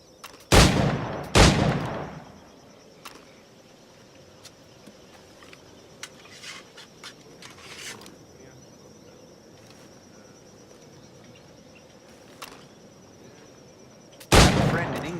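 Flintlock firearm gunshots in Assassin's Creed 4 Black Flag: two sharp, loud cracks in quick succession at the start, then quiet ambience with crickets and faint clicks, and another loud shot near the end.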